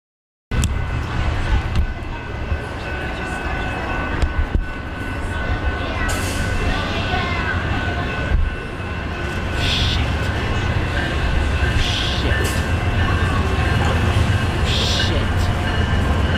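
A train on a rail line rumbles steadily with a dense broadband roar and sustained metallic tones, loud and continuous throughout without talk.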